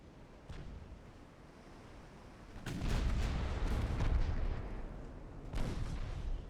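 Naval guns fire in the Ultimate Admiral: Dreadnoughts warship game as heavy booms roll over a steady wash of sea noise, building into a loud sustained rumble midway and ending with another thud.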